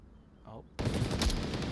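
A short vocal exclamation gives way to an abrupt, loud burst of gunfire in a competitive video game match, which carries on as sustained, dense shooting to the end.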